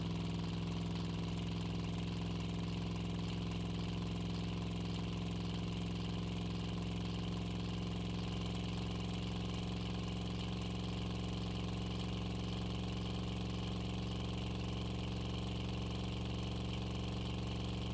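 A turbocharged truck engine in Drive Beyond Horizons strains on a hill climb, a steady droning hum with pronounced tonal harmonics and a faint rhythmic knock, continuous and unchanging with no voices.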